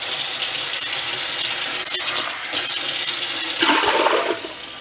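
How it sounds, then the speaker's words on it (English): Water gushes loudly and continuously from a 4-cup measuring cup into a pot, with a brief break in the flow midway and a change in the splashing near the end, no talking. "I am going to add 12 cups of water to my pot."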